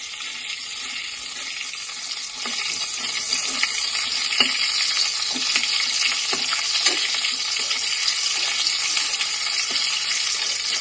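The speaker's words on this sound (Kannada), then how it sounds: "ಈಗ ಹಸಿಮೆಣಸನ್ ಹಾಕ್ತಾಯಿದೀನಿ" Green chillies fry in hot oil with a steady bright sizzle, while a spoon repeatedly scrapes and taps the pan in an irregular rhythm, close and fairly loud.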